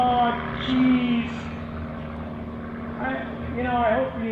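A propeller plane's engine hums continuously at an airshow comedy act, its pitch wavering as it maneuvers, with an announcer's voice heard over it.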